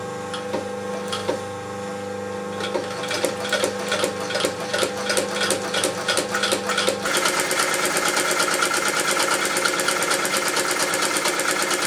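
A sewing machine stitches a seam in a leather tool case, first with a rapid run of close mechanical stitch taps, then settling into a continuous loud whirring drone, with no talk.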